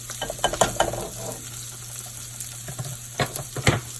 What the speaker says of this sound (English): I am going to go ahead and put my onions and garlic in. And I'm going to give that a nice little stir around.